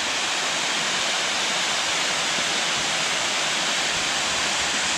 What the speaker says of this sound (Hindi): सो ये देखिए तो ज़बरदस्त वाटरफॉल है ये एक छोटा सा सिंपल क्यूट